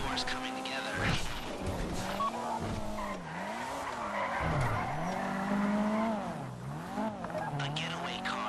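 A getaway car in GTA 5 skids and squeals its tyres during a heist mission, engine roaring and tyres screeching in long sweeping waves, loud and continuous, with game dialogue voices mixed in.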